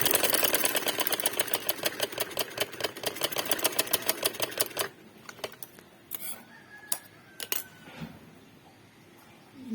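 Sewing machine stitching a garment neckline, a rapid steady run of mechanical clatter for about five seconds that then stops, followed by a few scattered clicks and small handling noises.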